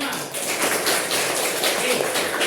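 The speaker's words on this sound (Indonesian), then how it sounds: "tepuk tangan kita semua" A sixth-grade class claps together in a classroom, giving a steady, fairly loud patter of many hands that lasts throughout, with a voice mixed in.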